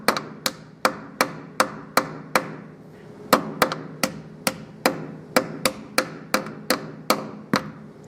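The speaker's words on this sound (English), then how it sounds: "we're going to use the wheel weight hammer to tap it in" A wheel weight hammer taps a balancing weight onto a car wheel rim at a Hunter DSP 9500 balancer, making a close, loud series of about twenty sharp metallic knocks in a steady rhythm with a brief pause midway.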